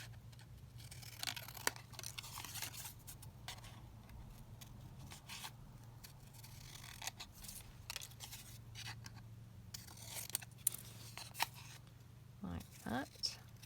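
Paper trimmed with scissors for a craft piece, a series of quiet close snips and light rustles over a low steady hum, with a brief cluster of sharper cuts near the end.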